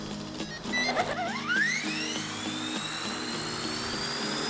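A Walkera V450D03 radio-controlled helicopter's small motor spins up with a rising whine that settles into a steady high-pitched buzz, with rhythmic rotor chopping underneath, close by and continuous.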